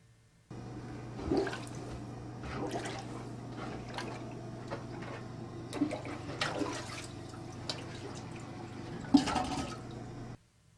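A plunger is worked in a clogged toilet, pushing water through the trapway in a quiet room: low gurgling and sloshing with several sharper surges, plus a faint steady hum underneath.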